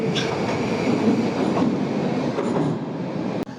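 A Tashkent metro train, a Soviet-era underground line, rumbles steadily and close with a broad continuous roar and faint rail clatter, ending in a brief sharp knock near the end.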